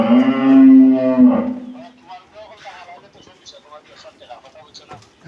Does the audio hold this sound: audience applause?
no